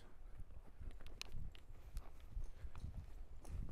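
Young, barely ridden colt walking, its hooves clip-clopping in an irregular close rhythm over a soft, rumbling background.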